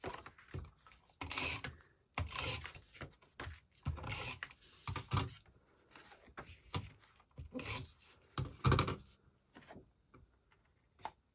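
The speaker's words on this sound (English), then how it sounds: "And then I will trim those edges off." Edges of 12x12 scrapbook paper are trimmed with repeated rasping cuts and rubbing strokes, close and fairly quiet, coming in irregular bursts separated by short pauses.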